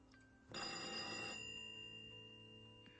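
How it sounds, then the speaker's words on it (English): An old-fashioned telephone bell rings in one short burst of about a second, then fades into a quiet room. "Pick up the phone."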